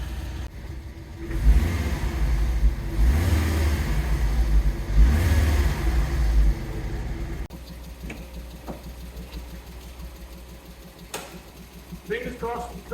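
A Fiat Coupe engine idles steadily as it warms up, a low, continuous mechanical hum close by that drops in level partway through. A person talks over it.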